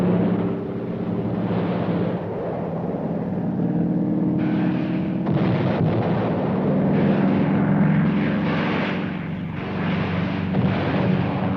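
Military planes over North Korean territory in Korean War newsreel footage, a loud, sustained roar of aircraft engines with rising and falling intensity and sharper bursts partway through, in a narrow, dated recording without voices.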